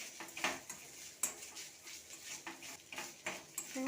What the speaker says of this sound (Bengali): নারকেল পুরাটা দিয়ে একটু ভালো করে নাড়িয়ে নেব